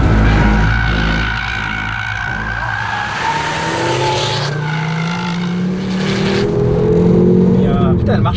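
A Honda Civic Type R or Ford Focus RS Mk2 accelerates hard on a race circuit, its engine note climbing through the revs with a gear change partway, loud and close, while people talk over it.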